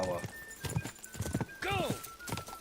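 A horse in the Kingdom Come: Deliverance II video game neighs and whinnies while bucking, with hooves clip-clopping underneath, as someone talks excitedly over it.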